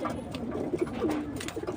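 Domestic pigeons coo softly at close range, with a short rolling call heard alone over a quiet background.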